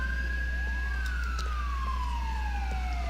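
A police siren in GTA IV wails steadily, its pitch sliding slowly downward, over a constant low engine hum, loud and close.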